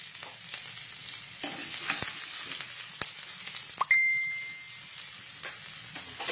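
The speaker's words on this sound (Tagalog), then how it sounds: "Magigisa na tayo. Gisayin na natin to." Garlic and onion sautéing in a pan, a soft continuous sizzle broken by a few sharp clicks and knocks of a utensil against the pan.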